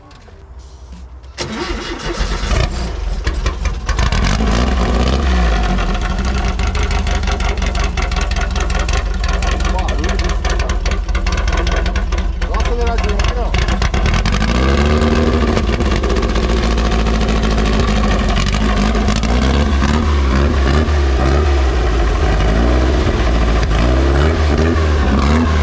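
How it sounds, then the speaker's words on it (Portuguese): A Volkswagen Brasília with its basic 1300 engine cranks and catches, then runs loud and steady close by, with revs swelling and falling through the rest of the stretch while people talk over it. "liga a Brasília, liga o motor que a gente quer ouvir o barulho do motor quando é motorzão"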